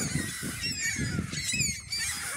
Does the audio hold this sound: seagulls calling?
yes